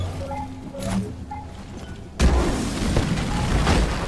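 Support rocket explosions in Deep Rock Galactic during a solo deep dive in a cave: after quiet game tones, a sudden heavy boom hits and gives way to a sustained, rumbling roar of blasts.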